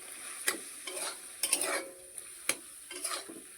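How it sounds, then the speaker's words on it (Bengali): Rice with turmeric, chili powder and cumin gets stirred in a pan, a spoon scraping and clinking in irregular strokes over a soft, steady sizzle, with no talk. "এটা ভালো করে মিক্স করে নেব।"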